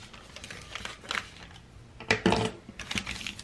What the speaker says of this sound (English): You'll need to cut from your mark to the corner. So just cut into a straight line.